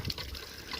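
Clean water runs from a roadside hand pump in Cholistan, a soft, steady trickle that is faint but continuous for under a second.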